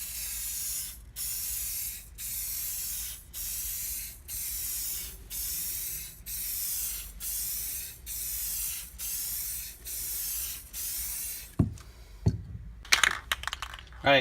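Clear coat is spray painted onto a Polaris XCR 440 sled in a dozen short, evenly spaced hissing bursts, each about a second long with brief gaps between. Sharp clatters and knocks follow at the end.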